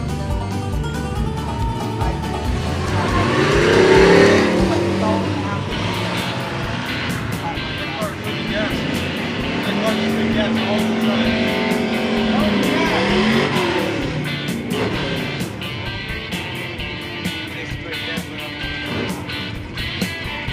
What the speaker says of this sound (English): Street cars with mufflers.